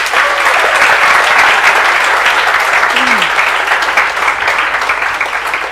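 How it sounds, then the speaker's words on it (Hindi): Students in a live CA Inter law lecture class give loud, sustained group applause, a dense continuous wash of clapping with faint voices mixed in. "चलो एक बार मैं चाहती हूँ आप लोग सब अपने लिए जोरदार तालियां बजा दो."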